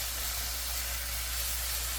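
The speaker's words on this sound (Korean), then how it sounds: "고기를 풀어헤치면서 볶아주세요" Meat sizzles steadily as it is stir-fried in a hot pan for japchae, a continuous close hiss with no voices.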